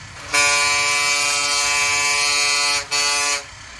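A loud, steady bus horn in the video game Bus Simulator Indonesia blares for nearly three seconds, cuts out briefly, then sounds once more in a shorter blast.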